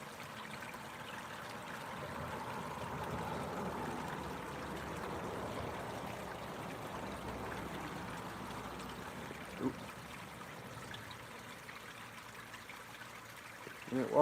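Water flowing in a stream, heard on an outdoor morning walk: a steady, broad rushing and trickling that continues evenly throughout, moderately close, with a faint brief knock near the end.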